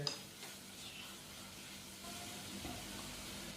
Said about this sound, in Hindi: और मसाले को हम हल्का सा रोस्ट करेंगे तकरीबन 2 मिनट के लिए